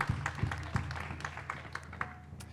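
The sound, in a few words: audience clapping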